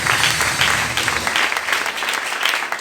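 A church congregation breaks into loud, sustained applause for a brother, many hands clapping together in a dense wash that holds steady throughout.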